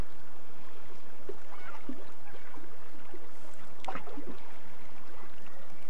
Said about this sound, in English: All I can hear is the water just splashing against the rocks